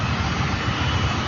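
An airplane passes near an airport runway, its engine roar loud, close and steady for the whole brief moment, with no voices.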